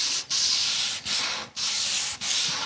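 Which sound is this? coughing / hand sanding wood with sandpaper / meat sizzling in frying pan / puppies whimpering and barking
hand sanding wood with sandpaper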